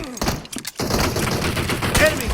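Gunfire rattles in PUBG Mobile, a burst of shots at the start followed by a dense stretch of loud game noise, with a player's voice talking excitedly over it.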